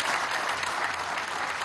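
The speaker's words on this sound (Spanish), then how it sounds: "Un aplauso a los médicos y a las médicas, a todo el personal sanitario." Applause for doctors and health workers rises from a crowd gathered at a Caracas metro workshop yard, a brief, dense and even burst of clapping lasting under two seconds.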